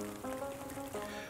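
Steady rain falls at Werratalsee lake in Hessen, a soft continuous patter of drops close by, with a few faint tonal hums running through it and no voices.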